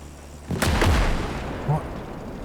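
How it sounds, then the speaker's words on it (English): An ammunition box blows up beneath a vehicle in the WWII strategy game Gates of Hell, a sudden loud blast with crackling debris that fades out, then a smaller thud, a voice speaking faintly in the background. "I think I ran into an ammunition box. blew my wheel off."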